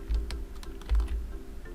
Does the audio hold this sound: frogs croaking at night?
no